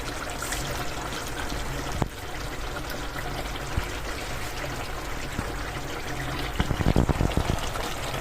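Raw jackfruit pieces going into a simmering beef curry give a steady wet bubbling and liquid pouring sound, with a few louder sloshes and clatters near the end, close and continuous with no talk.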